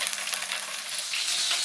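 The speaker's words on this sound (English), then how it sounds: "you hear that lovely sizzle" Steady, crackling sizzle of salmon frying in a hot pan, close and continuous with bright spitting pops, rising slightly toward the end.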